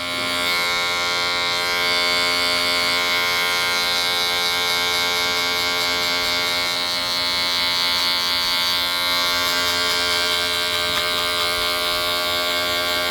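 Barber's electric hair clippers cutting hair for a pompadour, a loud, continuous close buzz that holds steady throughout with no talking.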